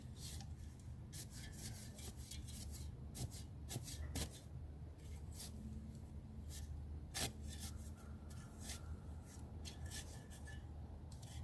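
Loose sand is stirred and scraped in a planting hole for a Double Knockout rose, giving a steady gritty rasping and rubbing. It runs continuously with irregular bursts over a faint outdoor background.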